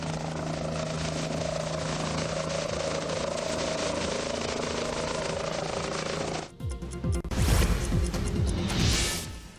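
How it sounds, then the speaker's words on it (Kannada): A helicopter takes off, its engine and rotor making a loud, steady whine and drone that cut out abruptly, followed by a burst of gusty, rushing rotor wash. "ಹೆಲಿಕಾಪ್ಟರ್ ಟೇಕ್ ಆಫ್ ಆಗುವಾಗ ಸಮಸ್ಯೆ ಉಂಟಾಗಿರುವಂಥದ್ದು"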